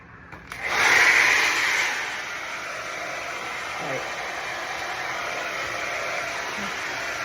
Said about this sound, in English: now I'm gonna use my diffuser to dry it